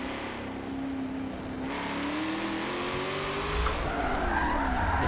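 Tires squeal continuously as a car drifts in a racing video game played on a Logitech G920 wheel with an NRG wheel, the sliding squeal wavering in pitch over a steady engine drone, loud and close with no talking.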